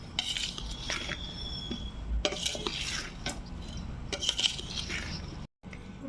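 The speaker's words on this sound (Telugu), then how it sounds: "రెండు కేజెస్ టూ కేజెస్ ముక్కలు మామిడికాయ ముక్కలు వేసి ఒకసారి మళ్ళీ మంచి మిక్స్ చేసుకోండి" Mango pieces are stirred into avakaya pickle mix in a large pot, with continuous wet squishing, scraping and clinking of a utensil against the vessel, followed by a brief pause near the end.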